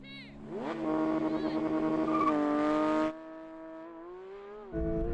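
A BMW M4 CSL and a Porsche 911 GT3 launch from a race start with loud, close engine roars that climb in pitch through the gears, cut off abruptly, then settle into a steadier drone.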